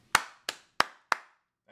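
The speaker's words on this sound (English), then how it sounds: "Round of applause for Pat Bev." Applause for a basketball player during a Bucks vs Pacers playoff game reaction, heard as four sharp, evenly spaced claps, loud and close, with no talk over them.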